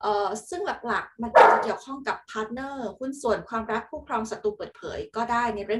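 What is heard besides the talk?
dog barking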